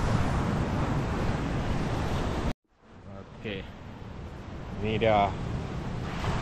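Broadband wind-blown surf noise at Pantai Kaul Igan beach in Mukah, Sarawak, loud and roaring for a few seconds, then cutting out to quieter wash under people talking.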